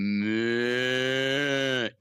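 A person imitates a cow with one long, steady, close moo of about two seconds that cuts off abruptly at the end.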